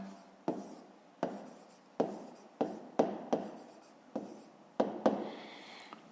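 Pen strokes scratch across paper while a fifth-grade math solution is written by hand, a series of sharp taps and short scraping strokes in an uneven rhythm, close and quiet with no speech.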